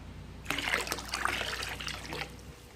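Settled limewater mixture is poured into a red claw crayfish breeding tank, a close, steady splashing trickle that starts abruptly and runs for about two seconds before tapering off, with no one talking.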